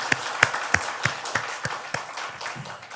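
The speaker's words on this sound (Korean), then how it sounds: "우리 박수로 환영하겠습니다." A few people in a church congregation clap to welcome a returning member, about ten sparse, spaced claps in a loose rhythm, soft and close over a quiet room.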